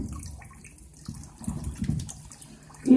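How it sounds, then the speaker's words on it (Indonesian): Hands are rinsed under running tap water during a handwashing demonstration: a soft, uneven splashing and trickling stream, close and fairly quiet, with small surges and a louder splash at the end, no voices. "Langkah terakhir dibilas dengan air mengalir."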